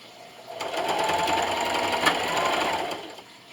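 A sewing machine runs steadily through a straight seam along a quilt edge, backstitching at a half-inch seam allowance. It hums at an even pace for about three seconds, then stops, with no talking.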